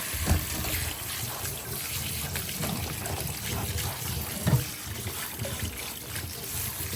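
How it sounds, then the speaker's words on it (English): Grapes are rinsed under running water in a kitchen, a steady trickling hiss with a couple of brief clunks as the fruit is handled. "Now we gotta wash our grapes off."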